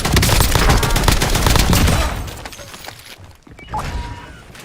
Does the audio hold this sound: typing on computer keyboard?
no